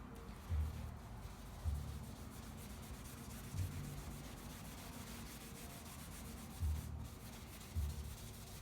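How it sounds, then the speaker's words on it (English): Car base coat paint is polished by hand, with soft rubbing strokes and a few faint repeated thumps at regular intervals, quiet and close with no talking. "When you're polishing the base coat, you got to be careful that you don't polish too hard."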